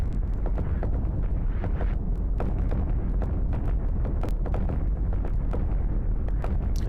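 A video game EMP explosion effect, a continuous rumbling roar studded with many sharp crackling pops and bursts, sustained and dense for several seconds.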